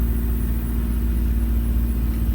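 A farm tractor engine runs steadily nearby, a constant low idling drone with no talk over it.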